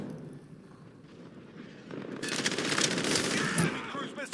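Rapid automatic gunfire in the game Call of Duty: Modern Warfare multiplayer, building from muffled distant bursts to a loud, dense close-range volley with sharp repeated cracks.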